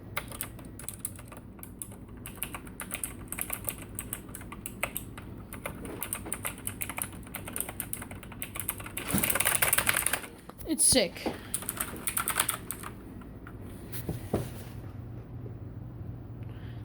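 Keys clatter on a Razer gaming computer keyboard in quick, close bursts of clicks, with a short spoken remark and a few louder bumps partway through.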